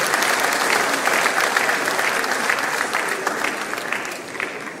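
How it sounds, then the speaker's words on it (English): Applause from a large conference audience at an investment summit in Lagos, a loud, dense, continuous wash of clapping that fills the room and fades slightly toward the end. "Please can we give him an outstanding round of applause."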